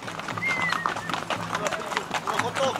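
Several riders' horses trot along in a festive cavalcade at a birthday party, their hoofbeats a loose, continuous patter mixed beneath constant chatter and calls from people nearby.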